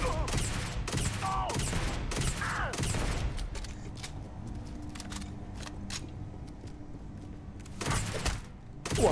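Rapid bursts of gunfire in Starfield, sharp close cracks in quick clusters at the start, thinning to scattered single shots and then another burst near the end, with a voice briefly heard amid the shooting.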